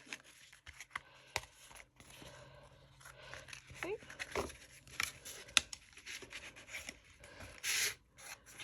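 Paper being rubbed down by hand on a pop-up gift card holder makes soft, intermittent scuffing strokes, faint and close, with a voice speaking now and then.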